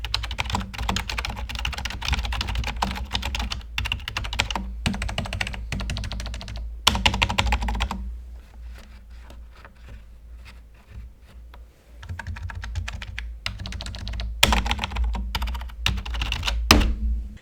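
Typing on a Logitech K480 keyboard with chiclet-style keycaps, close and loud: rapid bursts of clacky keystrokes with short pauses between runs, alone without talk.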